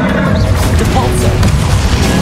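A Depulso spell strikes with a booming, crashing impact during Hogwarts Legacy combat, loud low rumble with scattered sharp debris-like hits, mixed with game voices in the background.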